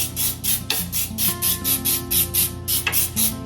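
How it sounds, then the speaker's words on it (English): Cooking spray is sprayed onto small cake pans in a series of short hissing bursts of about half a second each, repeated rhythmically and close to the microphone, over faint background hum. "this is the cooking spray that I'm using to put on my little cake pans"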